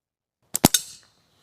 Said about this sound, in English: If y'all don't know how to shoot slingshots, you should learn how to shoot these things.